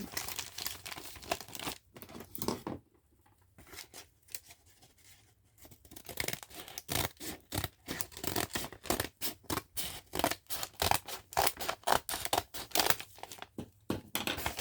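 Scissors snip through a paper bag for a junk journal, with rapid repeated cuts and crinkling paper, a brief quieter pause, then steady rhythmic snipping close up.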